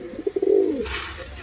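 Pigeons being sold in Vellore give a close, clear coo: a few quick soft pulses rising into one longer throaty note, followed by a faint rustle of background noise and no talking.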